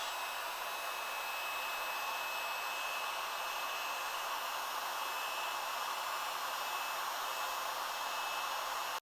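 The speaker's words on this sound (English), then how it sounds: "I'm just going to take our heat gun," A heat gun blows a steady, loud hiss of hot air onto chocolate ganache during truffle making, holding an even roar with a faint high whine for the full length and stopping abruptly at the end.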